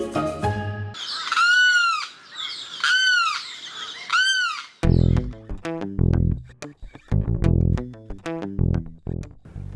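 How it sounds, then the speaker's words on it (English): A swamp and marsh bird in South Florida calls loudly and close by, first in a few drawn-out, rising cries, then in a quick run of harsh, clipped squawks and clucks, with no talking. "this is one of these birds that is just synonymous with, you know, the swamp and the marshes here in South Florida"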